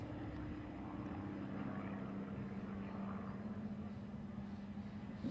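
German-built Extra 300 series aerobatic planes of the Phillips 66 Aerostars flying in formation at the SUN 'n FUN Aerospace Expo, a steady propeller engine drone with a sustained hum, moderately distant and unbroken.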